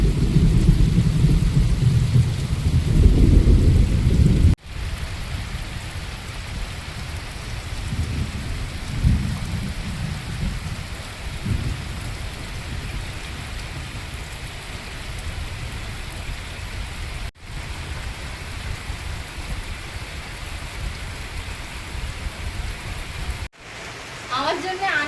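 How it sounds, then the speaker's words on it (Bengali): Heavy rain falls in a steady, loud wash, and deep rolling thunder rumbles in the first few seconds, with fainter rumbles later on. "একবার প্রবল বৃষ্টি নেমে গিয়েছে।"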